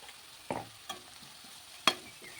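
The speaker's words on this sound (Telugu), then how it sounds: "ఉప్పు పసుపు వేయటంలోనే తొందరగా ఉల్లిపాయ బాగా ఫ్రై అయిపోతుంది" Finely chopped onions with salt and turmeric fry quietly in a pan as a spoon stirs them, giving a faint hiss broken by a few sharp scraping knocks, close and without speech.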